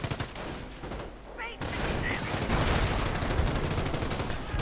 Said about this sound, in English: Coming under heavy machine gun fire, both teams suppressed.